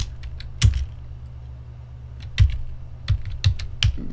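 A search query is typed on a computer keyboard in a few separate, close keystroke clicks with gaps between them, over a steady low hum and no talking.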